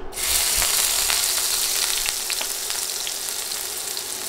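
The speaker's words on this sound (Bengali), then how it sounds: "একটা প্যানে 8-9 টেবিল চামচ তেল দিচ্ছি। এরপর দিচ্ছি পেঁয়াজ কুচি" Loud, continuous sizzling of chopped onion frying in 8-9 tablespoons of hot oil in a pan, with faint crackles and pops, close by and without talk.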